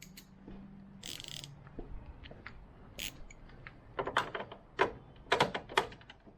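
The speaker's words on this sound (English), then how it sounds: "10mm socket. Take out these 3 bolts, and that should do it." A ratchet fitted with a 10mm socket works on the taillight bolts of a Nissan 350Z, giving close, quiet bursts of rapid clicking and metallic ticks in short uneven runs, with scattered clunks and rustles between them.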